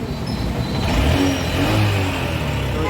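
A Honda SP125 BS6 motorcycle engine runs steadily right after a kick start, giving a close, continuous low rumble with a slight rise and fall in revs.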